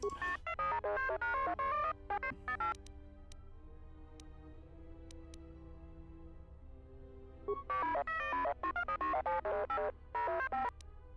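Electronic droid beeping dialogue from Star Wars: Knights of the Old Republic II, rapid warbling chirps in two dense bursts separated by a quieter stretch, over a steady low game hum.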